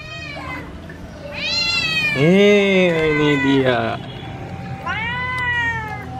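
A house cat meows several times in long, drawn-out, rising and falling cries, fairly close and loud, with someone speaking briefly in between.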